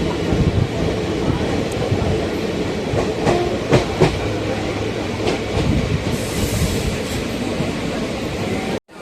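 A Madurai–Coimbatore passenger express runs steadily along the line, wheels clattering rhythmically over rail joints with a constant loud rumble and occasional sharper clicks, no voices over it.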